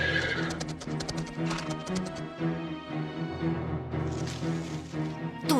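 Horses neigh and whinny loudly over galloping hoofbeats and clip-clop, with repeated high whinnies through the first half and more at the end, all set in a dramatic biblical-story scene with no talk.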